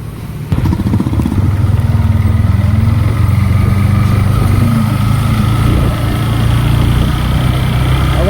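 A Yamaha MT-15 motorcycle engine running steadily at idle during a check for rocker ticking, a loud continuous close-up drone with a faint rapid ticking texture throughout.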